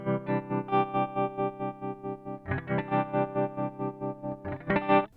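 Electric guitar chords played through an Ibanez TRMINI tremolo pedal with its volume turned down, the sound pulsing in a steady rapid throb, fairly quiet, with a new strum midway and no speech.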